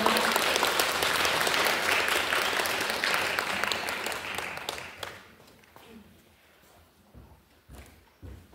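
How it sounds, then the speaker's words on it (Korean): Audience applause at a Korean community welfare center's 25th-anniversary event as a presenter is welcomed to the stage; steady dense clapping for about five seconds that thins out and fades, leaving a few scattered claps and thumps. "박수 부탁드리겠습니다."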